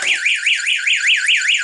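A school fire alarm sounds loud and close, an electronic tone sweeping up and down in a fast, even whoop that repeats about six times with no pause.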